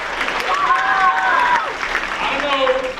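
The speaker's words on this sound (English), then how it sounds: "Clap it up for yourselves right here." A school audience during a writers' week session claps for itself, a moderate burst of applause with overlapping voices and cheers.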